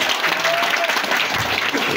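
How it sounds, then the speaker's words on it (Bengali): A large gathered crowd claps loudly and continuously in a thick wash of applause, with some murmur and voices blended underneath. "ওনাদের জন্য জোরে একটা বড় করতালি হবে"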